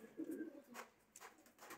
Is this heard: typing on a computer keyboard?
no